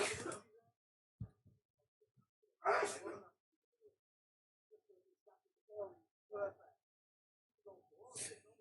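A man sneezes nearby in a quiet room during a football watchalong, a sharp burst followed by a few softer sputtering sounds and breaths.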